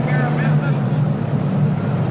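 Tractor-pulling event with "the General", a pulling tractor powered by three Allison aircraft engines, running outdoors; a loud, steady low engine roar fills the whole clip, with some crowd or announcer voices faintly above it.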